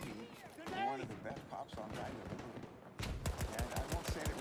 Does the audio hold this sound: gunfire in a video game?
yes